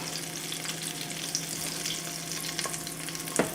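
Parmesan chicken fries in butter in a pan, giving a continuous soft crackling sizzle with a low background hum and a few sharper pops toward the end.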